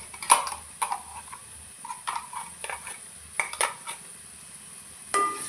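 A ground paste from the mixer goes into a pan for vegetable rice and is stirred with a spoon, giving soft scraping and clinking strokes at an irregular pace over a faint background sizzle.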